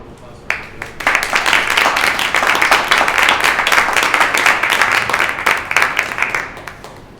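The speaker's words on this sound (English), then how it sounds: "let's have another round of applause" An audience at a talk about film, art and trauma breaks into sustained applause, many hands clapping densely and fairly loud for several seconds before tapering off into scattered claps.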